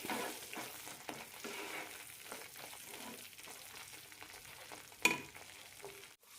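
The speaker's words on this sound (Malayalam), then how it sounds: "ഇനി ഇതിലേക്ക് കടുക് കറിവേപ്പിലയിലിട്ട് താളിക്കാം" Mustard seeds and curry leaves temper in hot oil for a tomato pickle, giving a soft, steady sizzle with scattered crackles and light stirring, plus one sharper pop near the end.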